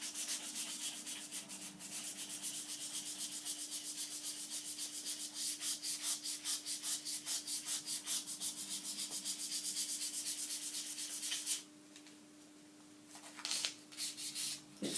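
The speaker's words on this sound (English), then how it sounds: "It's a good idea to rub in one direction so that all the marks you make are in one direction." A surface is rubbed by hand to remove scratch marks, producing a close, rapid back-and-forth scraping with a steady rhythm. It runs for about eleven seconds, then stops, with a few brief strokes at the end.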